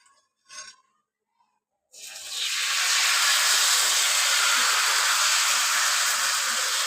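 Rice and coconut ghavane batter poured onto a hot pan bursts into a loud, steady sizzle that carries on unbroken after a few faint knocks beforehand.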